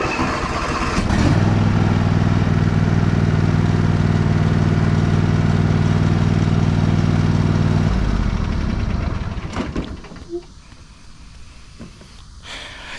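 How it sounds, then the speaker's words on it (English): A John Deere E140 lawn tractor's small engine starts up after maintenance and runs steadily at a loud, even idle for several seconds, then cuts off, leaving quieter background noise. "The motor sounds a little bit better."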